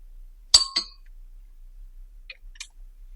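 Glasses clink together in a toast: two sharp bright clinks close together, then two lighter, quieter clinks a moment later, with near silence around them.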